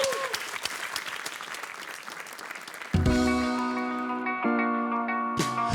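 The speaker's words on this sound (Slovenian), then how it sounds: "Dajmo aplauz za njiju!" Applause for young rock'n'roll dancers, loud crowd clapping for about three seconds, then cut off as a reverberant, echoing music chord takes over.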